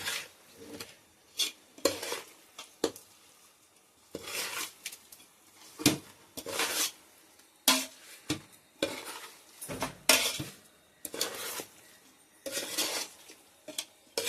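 A metal spoon stirs and scrapes chicken coated in masala inside a vessel, giving repeated close clinking and scraping strokes in an uneven rhythm, with no talking.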